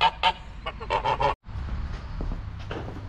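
Several geese honk loudly in quick bursts through the first second and a half, then a steady outdoor rumble follows with a few fainter honks further off.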